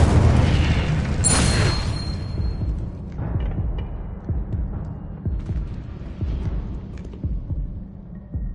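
An Incendio fire spell in a Harry Potter game bursts with a loud boom and a bright fiery whoosh early on, then fades into low, throbbing rumbles and scattered soft thuds.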